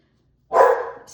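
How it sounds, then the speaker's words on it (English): A dog lets out a single loud, close bark after a moment of silence in an indoor room. "just ignore my dog"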